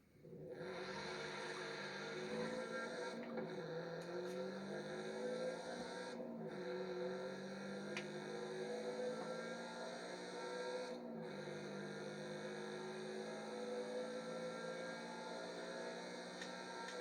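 Toyota car engine, GR 86 or GR Supra, driving in Forza Horizon 5: a steady sustained engine drone with gear-shift dips and rising pitch sweeps, continuous and fairly quiet with no talking.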